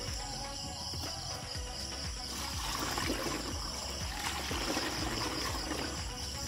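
Water poured into a sprayer tank while mixing a chili-based fungicide and insecticide spray, a steady trickling and splashing stream that grows a little fuller partway through, heard alone without talk.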